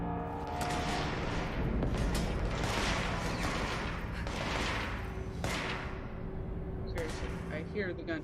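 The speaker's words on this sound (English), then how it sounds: "Seriously, I hear the gunshots." Gunfire in the video game Control comes as a string of sharp bursts and thumps at moderate loudness, spaced irregularly over a constant background of game noise.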